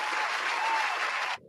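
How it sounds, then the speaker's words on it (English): A studio crew applauds together for the squad on a live Colts football show, a dense, steady burst of close clapping that lasts about a second and a half and then stops abruptly. "let's also applaud the squad"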